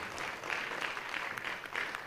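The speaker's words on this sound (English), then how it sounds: "Let's give him a big round of applause." An audience at a speaking event applauds. The clapping is brief and fairly faint, a dense even patter lasting about two seconds.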